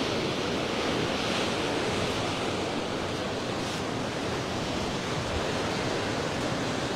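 Strong typhoon wind roaring steadily in Sta. Ana, Cagayan, a dense, constant rush of broadband noise with no break or speech.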